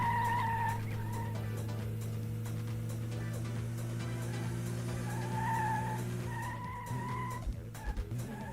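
A car in the Dreamcast racing game Metropolis Street Racer squeals and skids through several long tire screeches over a steady engine drone, with a few brief bumps near the end.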